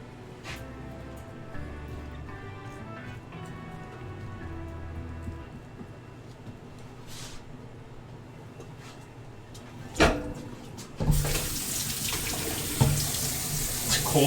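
Water runs from a kitchen faucet while hot sugar is being worked, a steady splashing stream that swells louder and brighter near the end, with abrupt surges as the flow strengthens.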